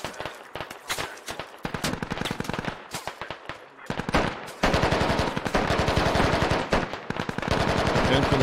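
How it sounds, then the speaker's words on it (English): Heavy gunfire in a Squad battle near a school building, with dense machine-gun bursts and rapid rifle shots crackling continuously, loud and close, as a western assault closes in. "Shots coming in now."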